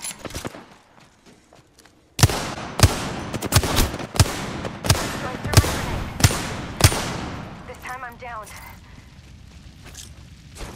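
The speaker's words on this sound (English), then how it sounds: "Opening fire. Getting shot at." Gunfire in the Apex Legends battle royale game: a string of sharp, loud shots in irregular bursts over a couple of seconds, followed by quieter mechanical reload and ability sounds, with faint low background before the shooting starts.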